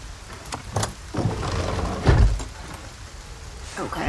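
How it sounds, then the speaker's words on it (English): Rain ambience in the Resident Evil 4 Remake video game, a steady soft patter running throughout with a few louder thuds and a brief swell near the middle. "Oh, now it's raining."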